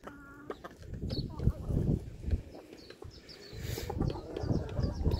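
Several chickens, including young quail-chicks, cluck and squawk nearby in a busy, irregular chorus, with scratching and rustling underneath.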